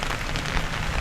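Steady rain falls in Bulqizë, Albania, a dense, even hiss of drops on surfaces that continues unbroken with no voices.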